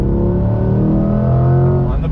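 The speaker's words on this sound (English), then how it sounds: "All right, guys, on throttle, here we go." A 2020 Chevrolet C8 Corvette Z51 V8 accelerates hard on throttle, a loud, steady, dense engine roar rising in pitch close by, with no break for its whole length.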